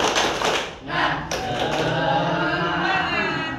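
A class of students claps together in a quick rhythmic spirit-clap pattern, a burst of crowded claps and taps mixed with voices and cheering in a room.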